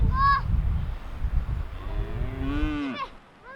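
A cow lows with a long, deep, drawn-out moo on a highland farm where sheep and cattle are tended, heard close and loud; a brief higher call comes just before it.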